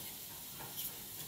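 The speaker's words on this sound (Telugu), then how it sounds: "అలాగే కొంచెం ఒక అర స్పూన్ మస్టర్డ్ సీడ్స్ అన్నీ వేసి పోపు వేయించుకోవాలి" Cumin and mustard seeds with urad and chana dal sizzle in oil for tempering, a soft, steady hiss with small crackles heard faintly and up close for a brief moment.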